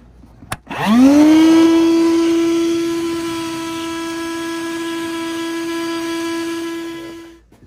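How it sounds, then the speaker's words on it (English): A vacuum cleaner clearing out a gas fireplace line during an emergency installation. A click comes first, then the motor whines up quickly into a loud, steady, close drone that holds and fades slightly before it cuts off. "I'll pull that head off and vacuum everything out"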